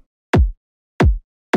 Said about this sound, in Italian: Kick, ho utilizzato due kick di alcuni pacchetti di pattern